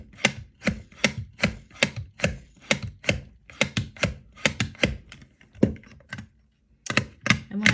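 Knife scraping bark from bassoon reed cane in a series of sharp, rhythmic strokes, close and distinct, each a short rasping swipe with brief pauses, one longer gap near the end before the strokes resume.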